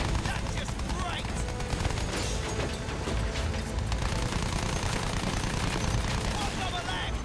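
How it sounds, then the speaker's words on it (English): Battlefield 1 gunfire in a World War I combat scene, a dense sustained roar of rifle and machine-gun shots mixed with distant blasts, loud and unbroken from start to finish, with voices faintly underneath. "Taking fire!"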